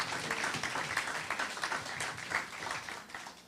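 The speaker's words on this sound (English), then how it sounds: "Y'all give him a round of applause." A crowd at a NAACP Jubilee celebration applauds a performer, a brief, moderately loud patter of many hands clapping throughout.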